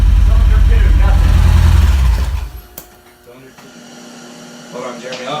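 A built, naturally aspirated Nissan KA24DE engine idles roughly with a misfire on cylinder 2, a loud, close, low rumble for about two seconds before cutting away to quieter background, with a voice talking.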